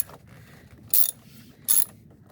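Wrench tightening the positive battery terminal on a 2008 Ford E-350, two short sharp ratcheting clicks spaced apart over quiet background rustle.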